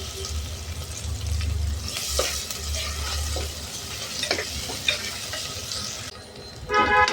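Onion and potato frying in oil with curry leaves, a close crackling sizzle punctuated by spoon scrapes and stirring knocks, a brief louder clatter near the end, no one speaking.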